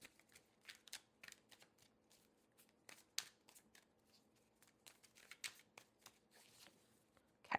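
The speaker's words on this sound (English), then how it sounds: "Let me just give it a couple more shuffles." Tarot cards being shuffled by hand during a collective reading, soft irregular riffling and flicking taps in quick bursts, close and quiet with no talking.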